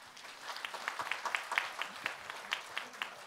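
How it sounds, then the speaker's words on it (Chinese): A company presentation audience gives soft, distant applause, a light patter of individual claps lasting a few seconds. "给我们董事长一个掌声"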